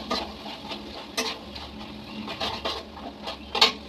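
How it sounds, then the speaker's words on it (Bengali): Boiled chickpeas frying in a pan for a Bengali taro-leaf dish, with soft steady sizzling and scattered scraping stirs and clinks of a spatula against the pan, close and alone. "ছোলাটা ভালো করে ভেজে নিই"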